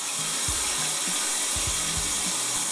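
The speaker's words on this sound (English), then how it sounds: "come into the shower, which should be rather interesting with the water running" Water runs steadily from a shower as a broadband hiss, fairly loud and constant, with a few low knocks and thuds over it and no talking.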